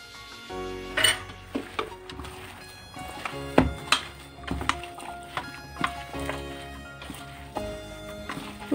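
Chopped potato, peas, green chilli and onion being stirred together in a bowl for aloo matar paratha, giving a string of close clinks and scrapes of a spoon against the bowl at an uneven rhythm, with no talking.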